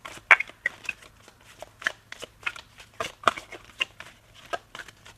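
Tarot cards being shuffled and drawn, a quiet run of soft papery flicks and riffles at an irregular rhythm, close and faint, with no talking.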